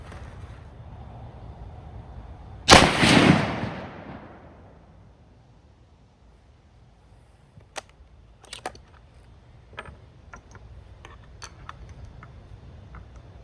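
A single loud shot from a Ruger American Compact .308 rifle cracks nearby and trails off into a fading echo. Faint clicks and handling taps of the rifle follow.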